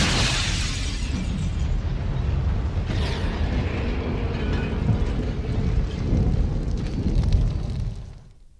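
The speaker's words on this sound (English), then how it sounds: "Then there's the backdraft sound." A deep, roaring whoosh of a backdraft fire sound effect rumbles continuously, with crackling bursts and a swelling rush before it fades out at the end.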